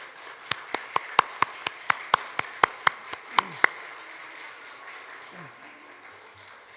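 A church congregation claps briefly in welcome of two newly baptized members at a Sunday service, sharp distinct claps in a steady run, then fading out into quiet room ambience.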